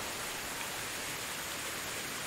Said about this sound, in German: man kann gar nicht weit schauen, so arg regnet's